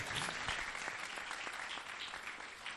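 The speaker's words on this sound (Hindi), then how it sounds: "सबके लिए जोरदार तालियां बजा देंगे जो फल लेके खुदा के घर में आए हैं।" A church congregation claps warmly for those who brought fruit, a dense, sustained round of applause at moderate distance with no talk over it.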